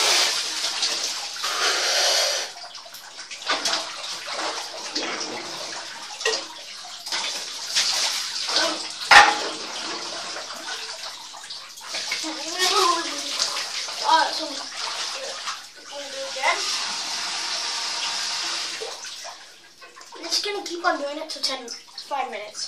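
Water runs steadily into a bucket being filled for an ALS ice bucket challenge, a continuous splashing rush lasting throughout, close by, with a voice heard now and then.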